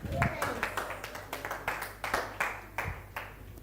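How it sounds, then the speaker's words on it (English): Scattered, fairly faint clapping from an audience at a national schools agroecology poem writing competition, sounding as a thin run of separate claps rather than a full ovation. "Another round of applause for Xavier."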